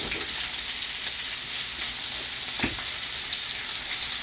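Food sizzles and fries steadily in a cast iron pan on a stove top, a constant bright hiss with one soft clunk partway through.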